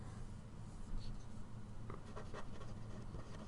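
Handwriting on a surface while working a quiz problem, with faint scratchy strokes in short bursts over a steady background hum, quiet and close, with no speech.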